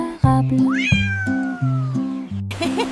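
A cat meowing loudly in one long, rising then falling call, over a bouncy musical backing of a nursery-rhyme tune with steady low notes.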